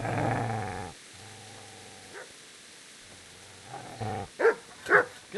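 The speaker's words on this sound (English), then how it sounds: "Get away, you mutt!" A dog in the medieval video game Kingdom Come: Deliverance growls low and steadily, then breaks into a few sharp barks and yips near the end, close and fairly loud with no talk over it.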